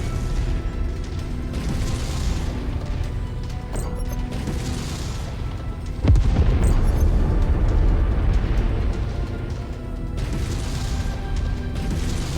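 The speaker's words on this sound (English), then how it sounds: "That was a big explosion." A mech explodes in the Mechwarrior 5 video game with a sudden loud blast. A heavy rumbling roar follows, sustained and dense over continuous game noise, with no talking.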